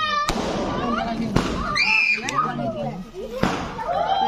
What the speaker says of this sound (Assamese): এইফালে পূৰা ফটকা